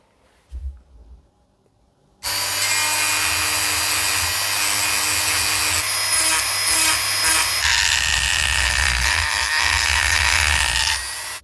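A rotary tool with a carving bit works a fantasy dagger, starting after a brief quiet knock and then running as a loud, steady high-pitched grinding whine that continues unbroken to the end.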